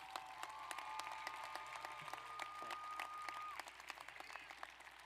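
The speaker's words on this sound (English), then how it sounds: "could you please give my sister a round of applause" Applause from a high school graduation crowd in a large venue for a graduate, a faint, steady patter of many hands clapping with scattered sharper claps throughout.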